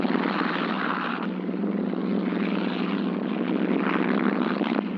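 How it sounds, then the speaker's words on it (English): WWII-era bomber engines flown by the Free French Lorraine Squadron drone in a steady, loud, continuous propeller roar with no pause, dense and unchanging throughout. "Legion bombers flown by the Lorraine Squadron of the Free French, revisiting their native land daily."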